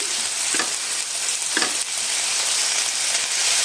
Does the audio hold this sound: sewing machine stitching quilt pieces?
no